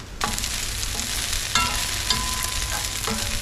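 Sliced garlic fries in olive oil in a pan for garlic chicken, giving a steady close sizzle with a few soft scrapes and taps from stirring.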